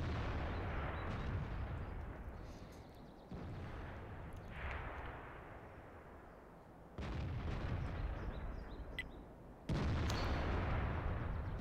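Tank cannon shots in the video game World of Tanks: several loud, sharp blasts spaced a few seconds apart, each with a rumbling decay, over a continuous low engine drone.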